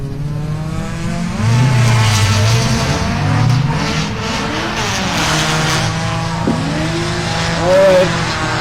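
A Toyota FRS drift car at a drift series championship battle revs hard with squealing tires, loud and continuous, with another engine droning underneath through the pass.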